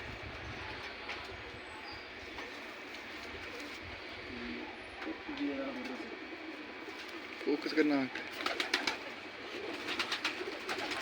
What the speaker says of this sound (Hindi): ये आमिर जी, ये आपकी ही कबूतरी है।